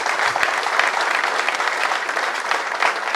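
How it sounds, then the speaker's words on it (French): Steady, dense applause from an audience of about 200 new students at a campus welcome, close and sustained throughout without talk. "Applaudissez pour vous-même vigoureusement."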